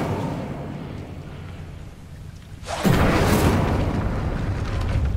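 The Incendio fire spell in Hogwarts Legacy, cast in a school setting: after a quiet lead-in, a sudden roaring burst of flame flares up and sustains as a loud, rushing blast.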